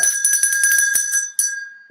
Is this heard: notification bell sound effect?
yes